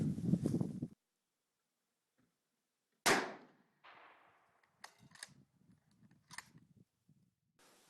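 Rifle shots from .204 Ruger reloads crack out, one loud report opening and a second after a pause, each trailing off into the open air, followed by faint clicks and handling noises.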